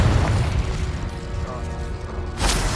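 A Confringo explosive spell blast in Hogwarts Legacy, heard as a booming burst with a sustained rumbling tail and a second loud pop near the end, amid continuous game noise.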